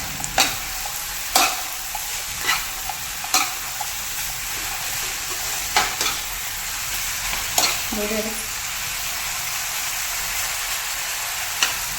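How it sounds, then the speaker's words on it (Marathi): Chicken noodles with sauces and vinegar stir-fried over a high flame, a steady sizzle with repeated sharp clanks of the utensil against the pan at irregular intervals throughout. "आता हे सगळं आपल्याला व्यवस्थित मिक्स करून घ्यायचं आहे"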